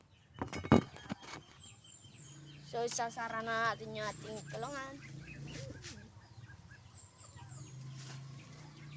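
Pigeons, including two blue bars, call and flutter in their coop during feeding, with short bird calls and a sharp knock near the start, while someone talks throughout.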